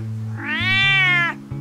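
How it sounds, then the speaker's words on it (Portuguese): A cat gives a single drawn-out meow, close and clear, lasting about a second, with a steady low hum running underneath. "Meu gato."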